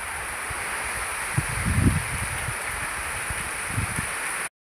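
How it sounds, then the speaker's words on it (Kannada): A steady outdoor hiss of rain and wind during a thunderstorm, with a few low gusts and soft rumbles rising briefly before it cuts off abruptly. "ಗಾಳಿ ಮಳೆ ಬರ್ತಾ ಉಂಟು"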